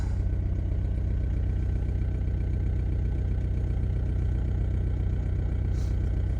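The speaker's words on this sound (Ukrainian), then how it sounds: "Працює зараз трішки на більших обертах, бо холодний, прогріється, оберти трішки впадуть" A 2012 Volvo V50 1.6 diesel idles cold and slightly fast just after starting at minus 4 degrees, giving a steady, even low rumble with a faint clatter and no speech.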